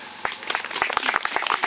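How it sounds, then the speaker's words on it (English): An audience claps at a college matriculation ceremony in Kambia, with a dense burst of hands that runs steadily and close throughout. "Clap for them."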